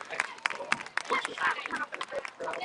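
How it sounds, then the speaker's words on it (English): A stadium crowd at a high school football game applauds a marching band, a burst of scattered claps and cheers with a few sharp hand claps standing out over general crowd murmur. "Let's have another big round of applause to all the members of the Angry Panther marching band."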